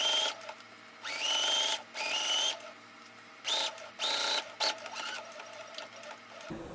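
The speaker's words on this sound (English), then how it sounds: "I'm going to continue sewing and repeat that process." Sewing machine stitching a fabric pocket for a fold-over clutch bag, running in several short bursts with brief pauses between them, close and clear, no talking.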